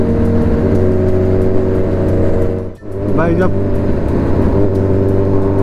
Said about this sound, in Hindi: 4-5 सुपर बाइक साथ में चलती हैं और सब में बढ़िया एग्जॉस्ट लगे हुए हैं